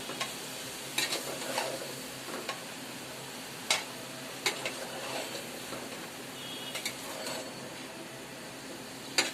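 Bottle gourd cooks with small prawns in a pan, a soft continuous sizzle broken by scattered sharp clicks and taps of a utensil stirring against the pan.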